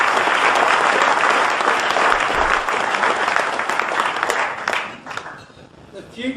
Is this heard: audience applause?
yes